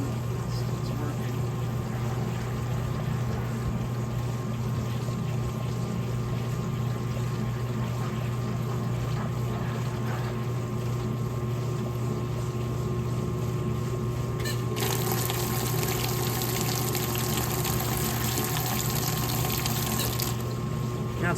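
Water drains steadily while something is being cleaned. A constant hum and watery rush run throughout, and a brighter hiss swells for several seconds near the end.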